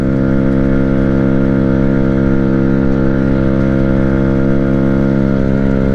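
Amstar Nostalgia 50cc scooter engine running steadily while riding, a constant loud buzzing drone with even tone for the whole stretch.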